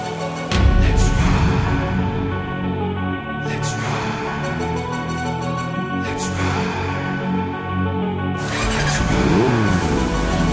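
A motorcycle engine running and revving, loud and close, with a low throbbing idle that swells into repeated throttle bursts over about ten seconds, no voices heard.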